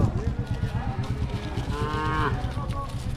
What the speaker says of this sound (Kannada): ಹಸು ಬರ್ತಾಯಿದೆ ನೋಡಿ ಇವಾಗ